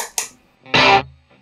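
An electric guitar runs through a stereo chorus pedal with overdrive engaged, giving two short shimmering bursts and then one louder swirling chord that fades out, with no talking.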